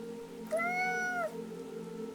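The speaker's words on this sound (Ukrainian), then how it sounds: "як відчув, що кіт ластиться до нього" A cat gives a single clear, drawn-out meow, close and fairly loud, over a quiet steady background hum.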